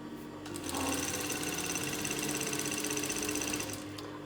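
A sewing machine stitches a folded half-inch skirt hem, running steadily with a fast, even mechanical whirr and rapid needle chatter for a few seconds, close and alone.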